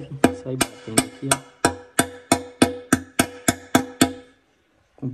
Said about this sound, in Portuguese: Com o biquinho do martelo.